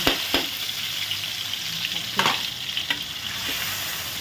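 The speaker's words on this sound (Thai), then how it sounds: "ก่อนอื่นก็ต้องผัดพริกก่อนนะจ้า" Chilies are stir-fried in a hot pan as the first step of a chicken holy basil stir-fry, with a loud, steady sizzle and a few sharp scrapes of the spatula, close up.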